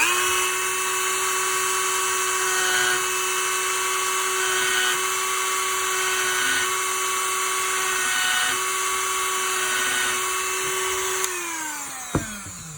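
High, steady whine of a Dremel rotary tool carving a wooden bison, running continuously close up with slight pitch dips as the bit bites into the wood, then spinning down with a small clatter at the end.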